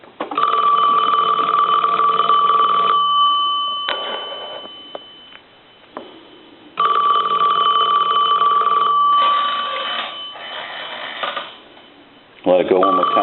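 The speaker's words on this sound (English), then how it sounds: "I'm going to go ahead and ring the phone" A Western Electric Princess telephone plugged into an analyzer rings in two long bursts of harsh electronic-sounding bell tone separated by quiet gaps, with some faint clicks and a brief voice near the end.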